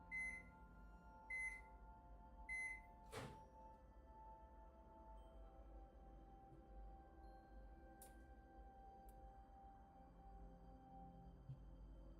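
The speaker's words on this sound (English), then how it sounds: "Alright, teacup is in the microwave" A microwave oven warming a teacup: three short electronic beeps at the start, then a steady low hum with a faint tonal whine running alone for several seconds, plus a couple of small clicks.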